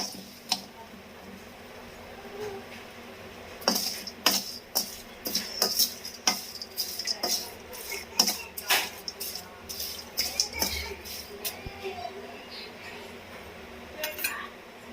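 A puffed rice snack mixture with peanuts and dal is stirred in a pan, heard as a busy run of close metallic clinks and scrapes of a spoon against the metal, irregular and fairly loud.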